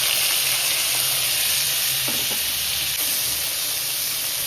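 Ingredients frying in ghee in a pan for a village-style chicken gravy give a steady, close, continuous sizzle and hiss with a few soft stirring knocks, no talking.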